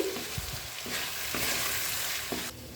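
Dalia with salt and sugar is stirred and fried in a pan, a close, steady sizzle with a few scraping strokes, brief and without speech.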